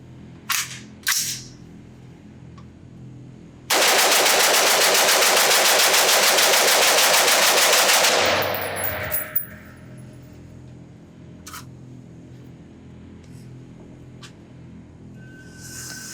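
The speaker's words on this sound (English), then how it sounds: "So let me load up one more magazine and shoot this thing as fast as I possibly can." A Knight's Armament SR-15 E3 Mod 2 rifle fires a long, rapid string of shots as fast as possible on a range, loud and close, running for about four seconds before stopping, with faint metallic clinks afterward.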